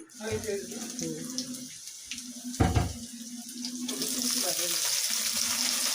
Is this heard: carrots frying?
yes